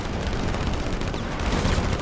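Rapid gunfire in the video game Split Fiction as players shoot at a drone, a dense, continuous crackle of shots layered over a booming, loud game soundtrack with no pauses.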